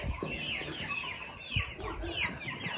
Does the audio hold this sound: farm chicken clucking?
yes